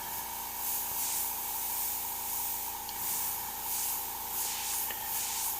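A steady, continuous hiss of airbrush spraying paint onto a saber-tooth skull, holding at an even level with slight pulsing swells, no voices.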